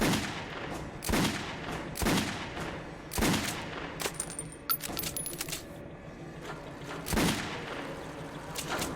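Gunfire in the video game Metro 2033, with sharp single shots spaced a second or so apart, plus some clinking and metallic rattles between them, close and fairly loud.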